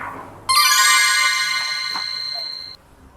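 A mobile phone ringtone sounds loud and close, a steady bright melodic tone that starts abruptly and runs unbroken for a couple of seconds before cutting off, with no talk over it.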